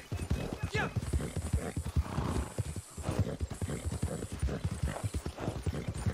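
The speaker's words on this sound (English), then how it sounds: "I'm riding a stupid horse too" Rhythmic hoofbeats of a horse ridden in a video game clip-clop steadily throughout, with a brief whinny, while people talk over the galloping.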